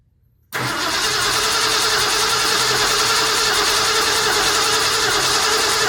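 Engine of a 1974 Ford F100 with a rebuilt carburetor catching abruptly after a quiet moment, then running loud and steady close by for the rest of the clip.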